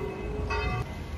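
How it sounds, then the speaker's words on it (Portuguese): A church bell rings in Dubrovnik, Croatia, at seven on a summer evening near the harbour, with one clear metallic strike standing out over steady outdoor ambience. "7 horas da noite, o sino da igreja está tocando."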